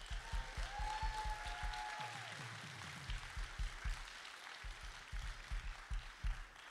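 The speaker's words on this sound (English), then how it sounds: "Can we give them a round of applause?" A church congregation claps through a long, steady round of applause at a teen Sunday service, the dense patter filling the room near and loud, with a brief tonal swell partway through.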